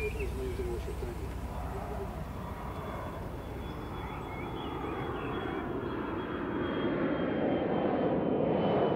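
A large airplane engine roars steadily and loudly throughout, a broad continuous rumble that swells slightly toward the end.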